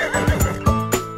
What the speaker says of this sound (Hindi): मैंने घोड़ा देखा